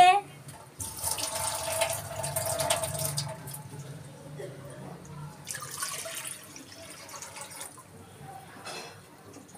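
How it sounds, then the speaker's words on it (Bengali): Two mugs of water pour into a cooking pot in bursts of splashing, fairly close and moderately loud, with a pause between pours and soft kitchen sounds around them. "প্রথমে হাঁড়িতে 2 মগ পানি ঢালবে।"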